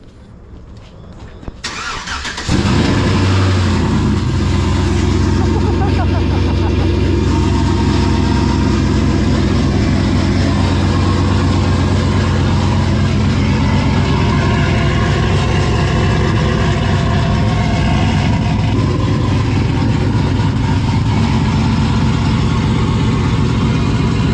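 A 2007-2013 Chevrolet Silverado with newly installed headers and fresh spark plugs cranks and fires. The engine settles into a loud, close, steady idle that runs without a break.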